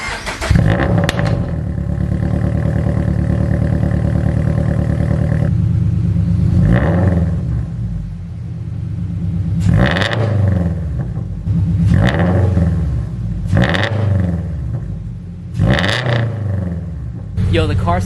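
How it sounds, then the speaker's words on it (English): A 2022 Subaru BRZ with a UEL header and tune fires up cold, settling into a loud steady idle broken by several sharp throttle blips near the car. "As you guys heard, the cold start is actually pretty quiet now."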